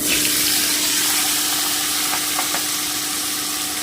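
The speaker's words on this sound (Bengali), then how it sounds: "এবারে আমি কপি আর আলুটা ভেজে নিচ্ছি" Cauliflower and potato pieces fry in oil in a pan, producing a steady, even sizzle and hiss that stays close and unbroken, with no talking.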